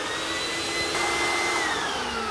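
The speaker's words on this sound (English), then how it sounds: "Let's go put this in the sandblaster." Sandblaster blowing air for frosting the back of a glass pie plate, a loud, steady rushing hiss with a whining tone that drifts slightly in pitch, continuous and close, no talk.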